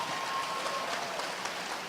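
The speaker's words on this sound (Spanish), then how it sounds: "Un aplauso." An audience at a live pastors' panel claps together in a steady, even wash of applause, moderately loud and unbroken, with no voices over it.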